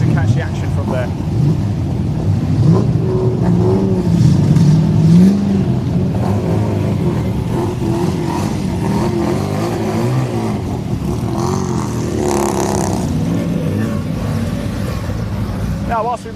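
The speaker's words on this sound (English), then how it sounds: "We're going to watch the cars head out" Race car engines at Mallory Park as cars head out onto the track, a continuous loud roar with rising and falling revs, blended with crowd and wind noise and some talking.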